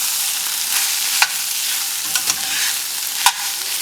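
Tomato paste frying over medium heat in a pan for Soviet-style beef stroganoff, a steady close hiss with a few sharp pops and clicks scattered through.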